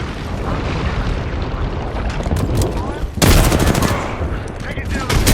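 Heavy automatic gunfire from an Apex Legends firefight, dense rapid bursts that stay loud throughout and swell into a harsher, louder volley midway, with faint speech-like sounds underneath.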